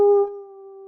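A human voice imitates a jackal's howl with a single loud, sustained tonal "oo" cry that starts strong and holds steady as it gradually fades, alone without other sounds.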